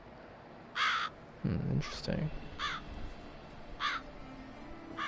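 Crows caw in Witcher 3 in a short series of calls at moderate distance, with game effects and someone talking between them.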